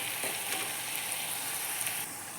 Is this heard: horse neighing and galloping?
no